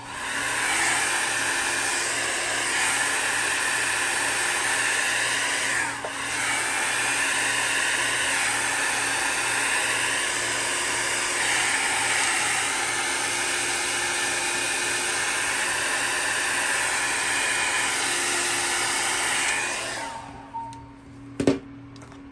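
A hair dryer's steady, loud motorized whir blows continuously for about twenty seconds, switched by a foot pedal, then cuts off, followed by a couple of faint clicks.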